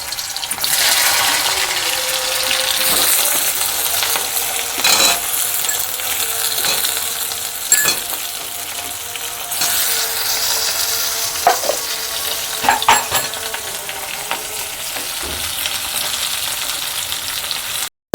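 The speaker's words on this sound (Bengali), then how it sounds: "আলুগুলোকে ভেজে নেব।" Potatoes frying in hot mustard oil in a wok, a steady, close sizzle running throughout with occasional stirring clinks and scrapes.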